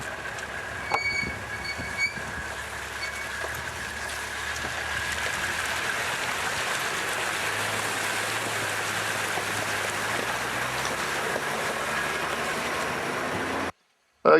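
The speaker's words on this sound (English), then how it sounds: "this is one of those creek crossings we told you about with the water in, so we just got to proceed through with care." A 4WD vehicle eases through a water-filled creek crossing, a steady rushing wash of water and engine rumble running loud and continuous, with a low drone shifting near the end before it cuts out.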